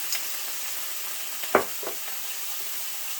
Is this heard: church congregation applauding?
no